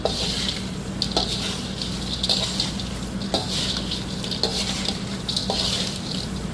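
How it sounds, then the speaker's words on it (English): A granola mixture with flaked coconut is stirred gently in a bowl, making soft repeated scraping swishes at an uneven rhythm over a steady background hiss. "We're just going to gently kind of mix everything together"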